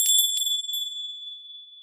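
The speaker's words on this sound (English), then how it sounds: "That's my magical dream bell, and it's ringing with the most important message tonight" A small magical dream bell gives a few soft, bright tinkling strikes, then one clear high tone rings on and slowly fades away alone.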